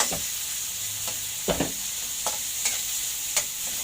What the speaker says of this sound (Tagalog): Lapag na natin yung kamatis